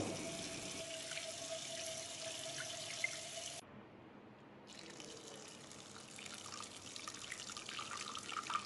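Running tap water splashes steadily into a kitchen sink as chana dal is washed before soaking, a continuous close hiss with a brief dip in the middle and no talking.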